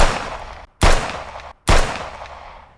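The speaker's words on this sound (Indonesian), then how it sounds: "Tapi melihat Kurata terus maju, 3 peluru dilesatkan." Gunshot sound effect in a gritty crime story, three sharp, loud shots with abrupt attacks and ringing decays, the first already sounding as the clip begins, then two more spaced roughly 0.8 seconds apart, with no voices present.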